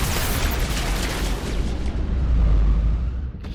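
A rocket launcher blast in the Mass Effect 3 video game sends out a loud, sustained rumbling boom that swells and then fades over a few seconds, with no speech over it.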